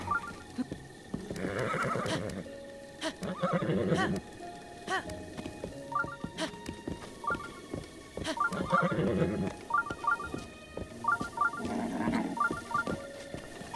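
Several horse whinnies from The Legend of Zelda: Breath of the Wild rise and fall across the stretch, mixed with clopping hooves and ambient game sounds, fairly loud and close.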